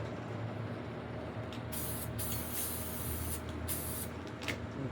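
A spray paint can hisses out white paint in several short bursts of varying length, close and crisp over a low steady background hum.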